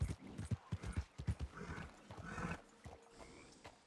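Horse hooves clip-clop at a steady walking rhythm in the open-world Western game Red Dead Redemption 2, with soft outdoor ambience and a faint animal call as the hoofbeats fade.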